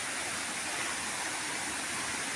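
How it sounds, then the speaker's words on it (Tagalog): Dahoyhoy Falls in Mauban pours down in a dense, steady roar of falling water, close and loud, with no pauses or voices. "Kitang kita yung anong lagasan ng tubig."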